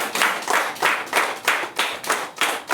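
A church congregation claps in acclamation of Jesus, a steady rhythmic beat of roughly nine claps, each soft and broad, evenly spaced and fairly close, with no voices over it.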